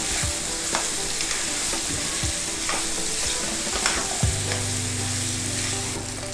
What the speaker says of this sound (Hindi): आलू डाल के मैंने इसको अच्छी तरह से 2 मिनट तक भूना है